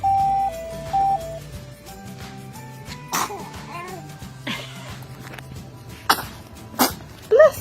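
Baby sneezing at home, several short sharp bursts near the end after some soft babble and handling sounds, with background tones running underneath.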